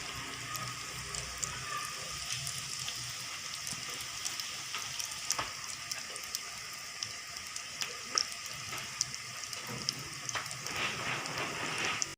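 Chicken cheese bread rolls frying in hot oil, a steady, fairly quiet sizzle with fine crackling pops throughout.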